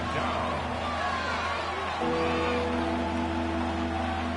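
Football stadium crowd noise ahead of a third-down play, a steady roar of many voices with a commentator talking over it, far and continuous.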